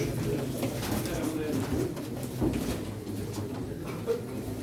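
Pigeons coo at a pigeon auction in Çorum, with soft repeated coos mingling in a busy indoor room while people talk over them.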